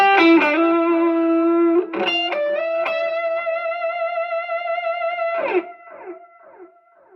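An electric guitar played through a Boss SD-1 overdrive pedal, sustained distorted notes ringing out with a few picked attacks, then decaying into quieter, fading tones.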